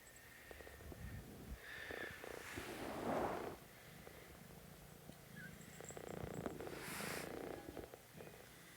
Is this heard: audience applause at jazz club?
no